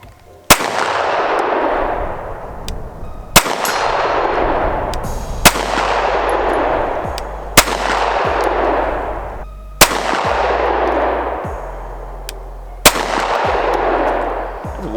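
Six sharp, loud shots from a custom Sig P320 pistol at an outdoor range, fired at a slow, steady pace roughly two seconds apart, each with a long, rolling echo trailing off.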